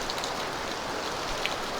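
A continuous roar of heavy rain pours down ahead of an approaching typhoon, constant and close, with scattered droplet splashes standing out against the steady wash and no voices.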